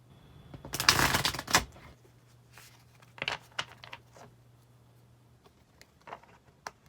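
A quick riffling burst of tarot cards being shuffled, followed by softer scattered card taps and shuffles, close by.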